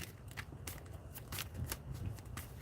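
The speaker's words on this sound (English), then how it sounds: "I'm going to keep shuffling" Tarot cards are shuffled close up in a steady run of crisp riffling bursts and soft paper flutters, quiet and continuous with no talk.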